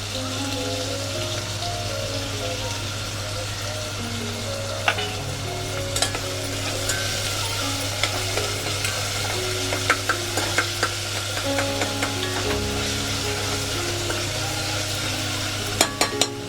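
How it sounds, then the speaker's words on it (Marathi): Onion frying in hot oil until golden: a steady close sizzle with soft crackles runs throughout, with occasional clicks of stirring against the pan and a low background hum. "आपण त्यात कांदा टाकूया, आणि गोल्डन होईपर्यंत जरा हे करून घेऊया, कांदा परतून घेऊया"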